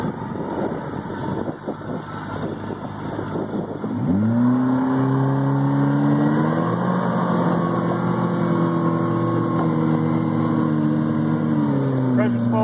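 A Yamaha four-stroke outboard motor on a boat roars up to wide open throttle, its rising, steady harmonic drone loud and close, holding high revs after the climb, with a fuel pressure fault under test.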